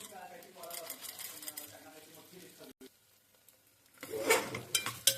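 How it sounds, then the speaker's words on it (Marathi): Edible gum (dink) roasting in ghee in a pan for traditional wheat kheer, with soft stirring scrapes and a voice talking early on, then a louder crackling sizzle bursting up near the end. "हा डिंक आपल्याला छान असा फुलीपर्यंत भाजून घ्यायचा आहे"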